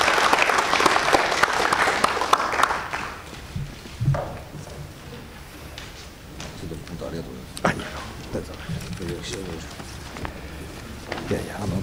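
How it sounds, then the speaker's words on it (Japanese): An audience applauds a Keio University professor after a lecture, a burst of clapping that fades after about three seconds, followed by scattered shuffling, footsteps and speech as the room settles. "先生にもう一度拍手をお願いいたします"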